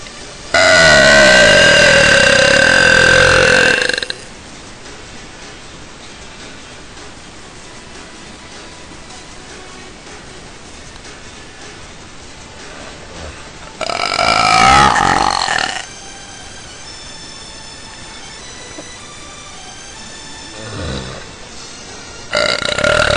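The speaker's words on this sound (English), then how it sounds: "I'll do a really long burp. Well, I'll do a couple of long burps." Two long, loud burps from a young woman after eating, the first about four seconds and the second shorter, each standing alone with quiet stretches between them and a brief faint burp near the end.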